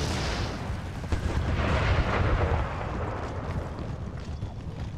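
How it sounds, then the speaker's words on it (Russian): Dense, rumbling cannon fire in the video game Empire: Total War, with overlapping booms and crackling blasts, a continuous barrage swelling slightly in the middle before settling. "теперь пушки со всех сторон под разными углами"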